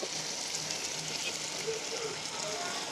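Onions and curry leaves sauté in a pan in a village kitchen, giving a steady, even hiss and crackle of frying at moderate volume.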